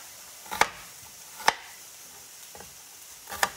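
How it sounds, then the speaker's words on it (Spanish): Finely chopping tender onion with a knife on a cutting board for molcajete salsa: four sharp, separate knife strikes spaced about a second apart, close and crisp against a quiet kitchen background with no talking. "Y aquí vamos a estar picando nuestra cebollita finamente."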